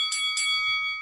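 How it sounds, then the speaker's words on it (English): A bell rings twice in quick succession, bright and ringing with sustained tones that hang on after each strike, loud and alone. "We never get tired of that bell"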